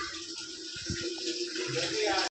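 Steady, even hiss of rain falling close by, with a few soft low thumps in the background and no voices.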